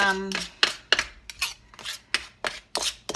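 Fat is cut into flour in a bowl for zwieback dough, giving a series of close scraping, rasping strokes against the bowl in an irregular rhythm, about ten in quick succession.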